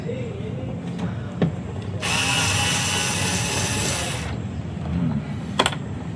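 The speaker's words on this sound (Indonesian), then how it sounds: "obeng listrik ya, obeng baterai ya" A cordless electric screwdriver whirs steadily for about two seconds while backing out door trim bolts on a Daihatsu Terios / Toyota Rush, with softer clicks and handling noises before and after.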